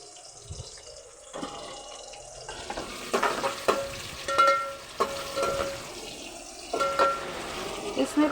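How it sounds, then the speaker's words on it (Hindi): Onions frying in a pan for a cabbage and chicken dish, with a crackling sizzle and stirring scrapes that grow busier after the onions go in, mixed with some background noise. "इसमें प्याज में बहुत ज़्यादा ब्राउन नहीं करूँगी"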